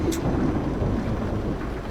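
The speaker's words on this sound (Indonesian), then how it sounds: "Aduh, malam-malam hujan dingin." Night rain falls in Bus Simulator Indonesia with a steady, rough wash of drops. A low rumble of thunder underlies it for two seconds, with a short higher crackle near the start.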